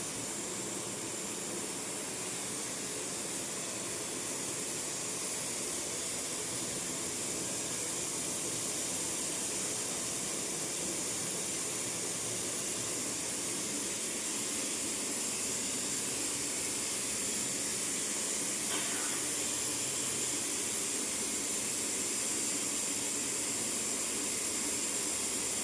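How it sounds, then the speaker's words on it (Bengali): A pressure cooker on a stove vents steam in a steady, loud, continuous hiss that runs unbroken for the whole stretch, with no voices. "এবার প্রেশার কুকারে সিটি"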